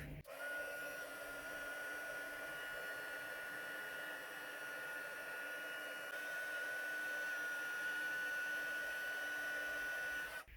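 A heat gun blowing steadily to melt black embossing powder on a card, a close, even whirring rush with a constant whine that holds unbroken for about ten seconds.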